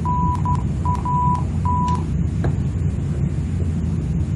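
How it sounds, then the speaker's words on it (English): Cockpit beeping of an ILS marker beacon in an Airbus A321 in FSX: a steady tone in short and long beeps over about two seconds, above a constant low engine and wind rumble, with no talk. "This is our ILS sound."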